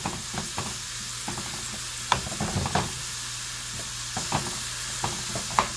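A spatula stirs and chops a frying vegetable stir fry mix with large carrot pieces in a pan, giving a steady close sizzle broken by sharp scraping clicks and knocks.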